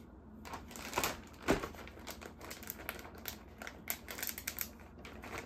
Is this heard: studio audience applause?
no